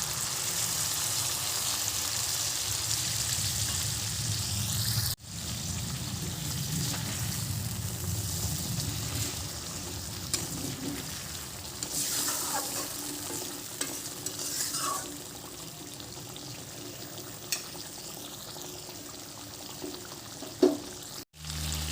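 Hilsa fish pieces are stirred in a pan while they sizzle and fry, with a steady low hiss and soft scraping of the spoon running throughout, broken by a couple of brief clanks.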